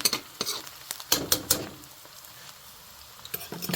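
Chopped onions tossed into a pan of frying okra and green chillies, a sizzle under a few bursts of stirring and spatula scrapes, loudest in the first half and then settling to a quieter steady fry.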